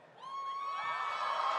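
Crowd cheering at an esports grand final, a sustained roar swelling and holding loud throughout the short stretch.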